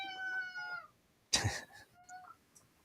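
A cat meows nearby, one drawn-out harmonic meow, then a sharp noisy burst and a shorter, softer meow following, in a quiet room.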